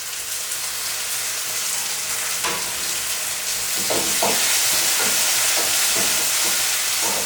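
Onions fry loudly in a pan with a dense, steady hiss for chana masala. Tomatoes land in them with a soft thud, and then come a series of stirring scrapes, close up and with no talk.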